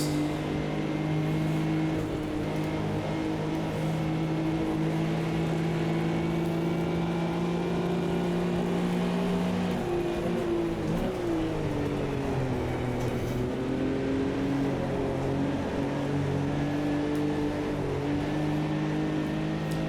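A 1974 Porsche 911 races in the Automobilista 2 sim at Kyalami, its engine holding a steady, loud drone that dips and rises again through a gear change midway, continuous throughout with no talking.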